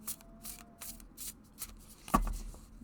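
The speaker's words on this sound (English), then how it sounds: "So you can do this shuffle, you can do the overhand shuffle" Tarot cards from a black and gold deck are shuffled overhand in a quiet room, giving a few soft, papery riffles and slaps in short bursts, with one sharper knock near the end.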